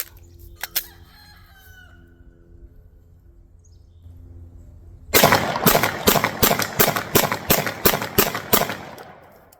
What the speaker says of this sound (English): All right, 10 rounds with the Glock.